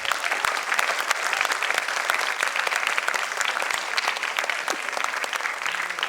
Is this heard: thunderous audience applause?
yes